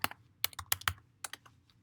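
An IP address is typed on a computer keyboard in a quick, uneven burst of crisp clicking keystrokes close by, with a short pause partway through and no talking.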